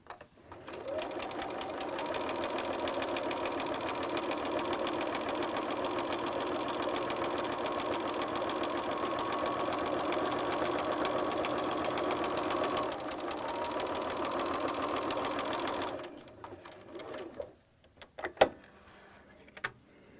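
Sewing machine stitching two wrong sides of fabric together at 1.5 for a flat felled seam, a fast, steady mechanical whir running close for about sixteen seconds before stopping, followed by faint handling clicks.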